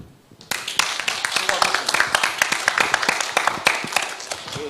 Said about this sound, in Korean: 모두에게 큰 박수를 한번 주세요